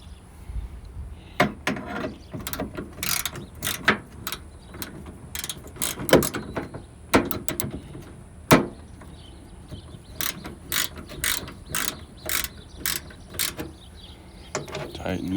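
A ratchet wrench tightening a bolt that has some play, giving repeated bursts of clicking in short runs with pauses between, fairly close and moderately loud, with faint background noise.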